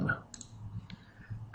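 Two soft, quick clicks of a single keyboard key being pressed, faint and close against a quiet room.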